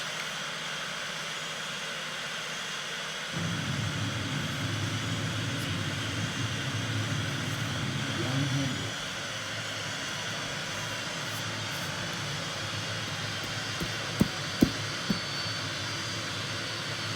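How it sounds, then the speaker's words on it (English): An Airbus airliner lands, its jet engines producing a continuous roar with a heavier low rumble for several seconds in the middle and a few sharp clicks near the end. "today I'm going to land all Airbus planes."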